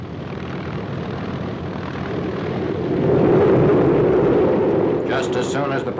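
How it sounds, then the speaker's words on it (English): A carrier squadron propeller plane taking off from the forward flight deck, its engine roar swelling to a peak and then easing, with someone talking over it near the end. "the next member of the carrier squadron leaves the forward runway"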